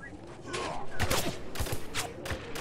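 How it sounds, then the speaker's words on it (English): Gunfire in the shooter video game Spec Ops: The Line comes as a dense rattle of rapid shots and thuds over game ambience for a few seconds, with voices chatting underneath. "Whoa, who's shooting at us? Is anyone shooting at us?"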